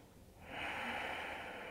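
A single long exhale through the nose during a yoga flow, a soft rushing breath that swells in and holds steady, close and quiet.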